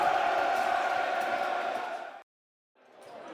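Millwall football crowd in a stadium roars loudly and steadily at a match against Watford, cuts off abruptly, then the crowd noise returns after a short gap.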